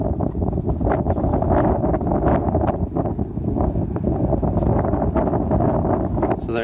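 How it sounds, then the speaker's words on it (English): Gusty outdoor wind buffets the microphone, a loud continuous rumbling roar with rustling bursts throughout. "Windy out"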